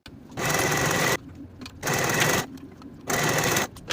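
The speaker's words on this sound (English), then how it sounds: "Sew or serge each seam with the 1/4 inch seam allowance." Sewing machine stitching the seams of fabric bands, three close, loud bursts of rapid mechanical whirring, each about a second long, separated by brief quiet pauses.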